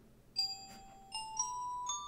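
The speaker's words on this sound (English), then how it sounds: "Bells." A few bright bell tones struck in sequence, each ringing with clear sustained pitch and shimmering overtones, quiet and isolated with no talk.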